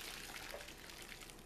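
Milk is poured into BBQ loaded mashed potatoes, giving a faint, steady liquid wash with no clear splashes and no voices.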